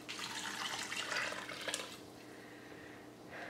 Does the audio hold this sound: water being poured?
yes